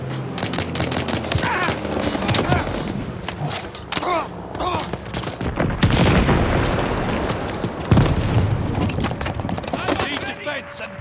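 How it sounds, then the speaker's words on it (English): Bombing run explosions in the World War II shooter game Call of Duty: Vanguard, a dense, loud barrage of booms and blasts layered with rapid gunfire, with heavier impacts around the middle and near the end, under game voice callouts. "Friendly bombing run inbound"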